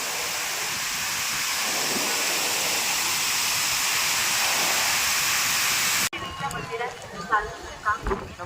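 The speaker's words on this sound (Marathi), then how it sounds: "आता आपण धबधबा पूर्ण पाहिलेला आहे बघा" A waterfall at Mandhargad roars as a steady, loud rush of water for several seconds, then cuts off abruptly to quieter surroundings with a voice speaking.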